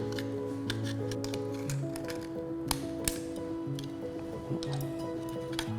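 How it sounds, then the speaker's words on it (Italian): Scissors snip through plastic sheet while triangular fins for a fish craft are cut out, giving sharp isolated clicks and crisp snaps over a steady background hum, close and fairly quiet. "Sempre aiutandoci con le forbici andiamo a realizzare"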